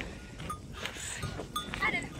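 Goats returning from grazing with bells clinking, passing along a hiking trail near Simsuwa and Bishnupaduka in Nepal, with bleats and bell tones mixed under nearby people talking.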